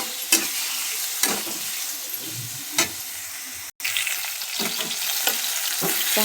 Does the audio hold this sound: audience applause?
no